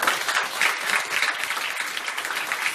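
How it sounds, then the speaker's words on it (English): A crowd at a school event gives dense, sustained applause, many hands clapping at once in a loud, even roar that fills the short stretch without any voices. "a big round of applause for all of you here today."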